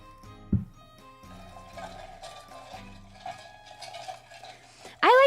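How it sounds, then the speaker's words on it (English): A spoon stirs an old fashioned cocktail, ice clinking softly and rhythmically against the glass, fairly faint and close, ending in a louder sharp clatter. "I like to get a really good stir for my old fashions."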